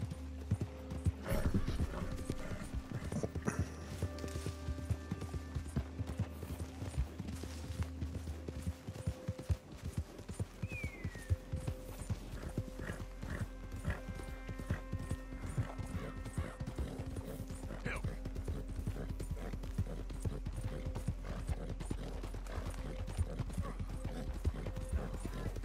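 Horse hooves clip-clop steadily in Red Dead Redemption 2, with an occasional whinny and scattered gunfire against a constant background rumble.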